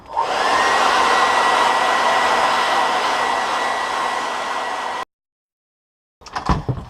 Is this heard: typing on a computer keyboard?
no